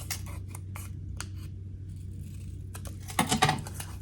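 Scissors snip paper while trimming the ends of a folded Easter egg sandwich box, with a run of short, close cuts and sharper, louder snips near the end.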